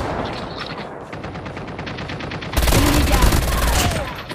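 Sustained bursts of automatic gunfire in a video game shooter, moderate at first and then a much louder, dense volley in the second half, with faint voices underneath.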